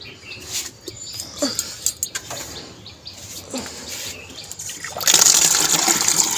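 Soaked oil cake fertilizer is poured into a bucket on a rooftop garden, giving soft wet sloshes and gurgles, with a louder gushing pour near the end; faint birds and a distant dog sit in the background.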